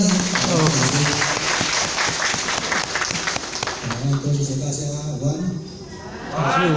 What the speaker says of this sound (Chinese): 我们掌声一声，掌声欢迎。